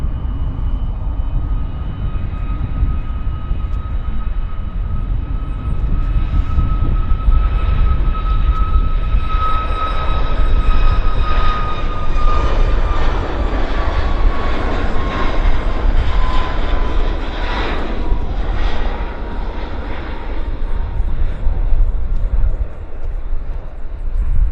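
A heavy widebody jet on the move at Vancouver Airport gives a loud, sustained engine roar with a thin whine that glides down in pitch, while a voice talks now and then over it.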